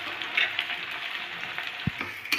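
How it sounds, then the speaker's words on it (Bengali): Sliced onions sizzle steadily in hot oil tempered with bay leaf and cumin, a close, even frying hiss with a few soft stirring clinks and no voices. "তো পেঁয়াজটা ভাজা হোক,"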